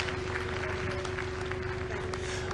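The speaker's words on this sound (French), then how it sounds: "On applaudit encore très fort." Steady applause from a crowd for a singer fills the clip at even loudness over a low, constant hum, with no pauses or voices standing out.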